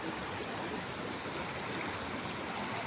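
A strong river current rushes past in a continuous, even roar of water, filling the space with steady broadband noise and no voices.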